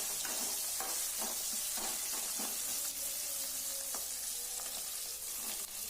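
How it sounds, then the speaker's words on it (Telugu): Cumin, mustard seeds and curry leaves fry in hot oil for a spicy okra curry. A close, steady sizzle runs throughout, broken by repeated stirring scrapes, with no talk. "వేగిన తర్వాత అందులో జీలకర్ర, ఆవాలు, కరివేపాకు వేసి మళ్ళీ కొద్దిసేపు వేగనిద్దాం."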